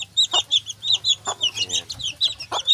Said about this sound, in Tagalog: Tapos dito, meron din tayong manok. Ayan. Ito pong sisiw.